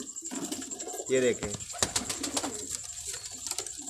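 Rampuri pigeons coo in short low rounded bursts close by, with someone speaking briefly over them and other birds faintly in the background.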